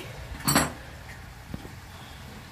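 A spoon or spatula clatters against a cooking pan while chicken is stirred, giving one bright scrape-and-clink near the start and softer knocks afterward over quiet kitchen background.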